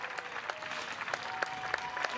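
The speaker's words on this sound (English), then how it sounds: "some Panther fans giving him a round of applause for what he achieved on this Thursday night in Pittsburgh" Distant, faint applause from fans at a Thursday night college baseball game in Pittsburgh, Clemson versus Pittsburgh, with scattered claps standing out over a crowd murmur and a broadcast voice.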